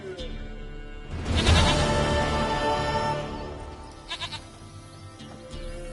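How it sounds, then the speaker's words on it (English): Goat bleating in The Witcher 3, several wavering bleats rising over steady game background sound, with a fainter bleat later in the clip. "Goat of mine, dearest, sweetest goat."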